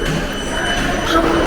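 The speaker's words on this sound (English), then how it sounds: "right now we're at the subway." A Naples subway train rumbles loudly close by, a dense steady roar with faint wheel squeal rising near the end, no speech over it.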